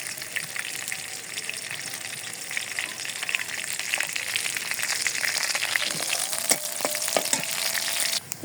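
Potatoes fry in hot oil, giving a steady close-up sizzle that swells louder midway, with occasional crackles and stirring scrapes near the end.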